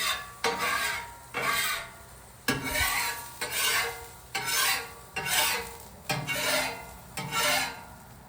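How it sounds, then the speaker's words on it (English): A metal scraper drags across a Blackstone griddle surface in repeated rasping strokes, about nine evenly spaced close scrapes with no talking. "Scrape the surface as best you can. Try and get all the corners clean."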